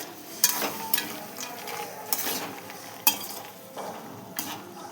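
Spoon stirring a sticky shakkarpara mixture through thick sugar syrup in a pan, with soft scraping and several sharp clinks of utensil against metal at irregular intervals, close and fairly quiet.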